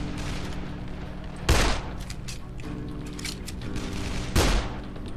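Gunfire in the zombie video game Dead Island: two loud, sharp bursts of shots stand out over a steady background of game ambience and mechanical noise.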